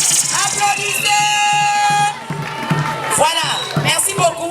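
A school audience at a primary end-of-year closing ceremony breaks into applause and cheering, a dense wash of clapping and whoops heard alongside music and voices calling out.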